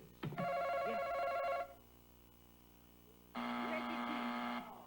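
Two long electronic game show buzzes on Family Feud, each about a second and a half, sound a steady tonal drone separated by a short pause, with brief chatter from a studio audience.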